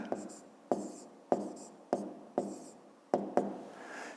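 A math expression is written out by hand in a series of about seven distinct, close scratchy strokes at an uneven rhythm, each trailing off quickly in an otherwise quiet room.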